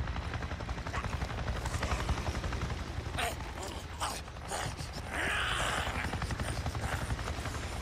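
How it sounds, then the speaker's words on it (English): In the video game Days Gone, a Nero helicopter passes overhead with loud, rapid rotor chopping and a mechanical whine under a steady rumble, close and dominant throughout, with brief voices mixed in. "A Nero chopper! It just buzzed right over me."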